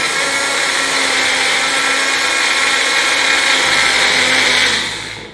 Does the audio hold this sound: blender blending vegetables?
yes